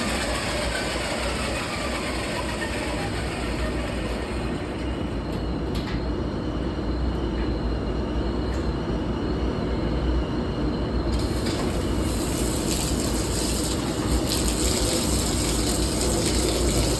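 A kitchen sewer snake cranks continuously inside a sink drain, a steady loud mechanical rattle and grind with dense ratcheting texture that runs without pause throughout.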